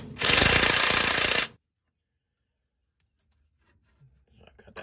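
An 18 mm wrench and socket working a shock absorber nut loose on an F150 front suspension, heard as a loud, dense rattling burst for about a second and a half, then near silence with faint handling noises.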